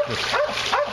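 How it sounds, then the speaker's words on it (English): A dog barks and yips in quick, fussy bursts, close and loud, with a whining edge between the sharp calls. "the dog is still making a fuss."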